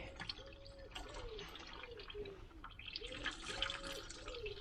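Coolant dripping and trickling from a Volvo 940 Turbo engine during head gasket work, a soft irregular patter of liquid close by with faint background noise.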